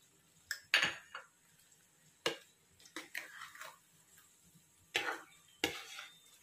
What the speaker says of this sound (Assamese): এইখিনি আকৌ প্ৰায় 4-5 মিনিট মান সময় এইদৰে ভাজিব লাগিব।